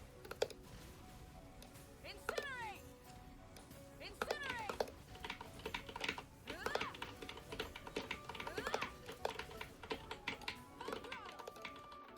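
Rapid mouse and keyboard clicks from someone playing a Mavuika damage combo in Genshin Impact, a close, busy clatter of keystrokes mixed with sweeping game effects and hits at a low overall level.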